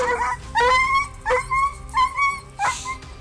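A dog that has touched an electric fence lets out a run of high, sharp yelps and whimpers in quick succession, loud and close.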